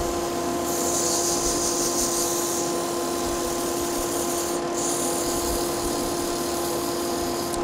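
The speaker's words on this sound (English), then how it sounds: "Sanding onto the bushings rather than dragging any metal dust into the open pores of the wood there." Abrasive sanding a wooden Celtic knot pen blank turning on a lathe, a loud constant whirring hum of the machine with a steady hiss of abrasive rubbing against the spinning wood.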